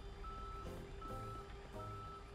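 Reversing beeps from a tow truck, steady repeated tones carrying over a low idling engine rumble in the background.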